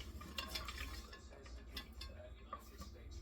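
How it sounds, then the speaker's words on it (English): A spoon stirs food in a pan on a stovetop over medium-high heat, making steady scraping and clinking strokes against the pan with a faint sizzle underneath. "gonna stir this up"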